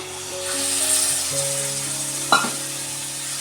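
Tomato paste hitting hot oil with spices while sautéing for a soybean masala curry: a loud, close, steady sizzling hiss with a brief clatter of a utensil partway through.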